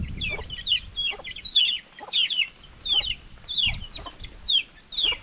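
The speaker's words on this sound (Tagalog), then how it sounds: "Ang maririnig natin talaga puro ingay ng sisiw sa maghapon" Chicks and a hen on a small home farm, repeated bursts of high peeping and clucking in an irregular rhythm, fairly close and steady, with occasional low thumps beneath.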